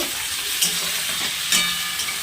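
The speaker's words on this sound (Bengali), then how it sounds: "এখানে পেঁয়াজ ভাজা হচ্ছে" Onions fry in a hot pan for a chicken and luchi meal, giving a steady, loud sizzle with a couple of brief stirring bumps and no talk.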